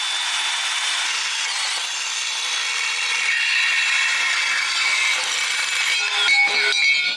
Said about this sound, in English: So bandsaw.